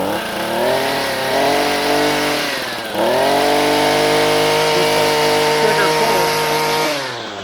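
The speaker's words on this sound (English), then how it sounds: "Now, once it's started, you want to play with the choke." A RedMax string trimmer's small two-stroke engine runs steadily just after starting, with a loud close buzz and slight rises and dips in pitch as the choke is adjusted, over someone talking.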